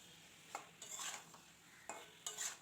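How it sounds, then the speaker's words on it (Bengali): Fried kain fish and potatoes are stirred with spices in a pan, giving a faint low sizzle broken by a few sharp scraping clinks of a utensil against the pan. "আলু আর মাছ মশলার সঙ্গে বেশ কিছু সময় ধরে কষিয়ে নেব।"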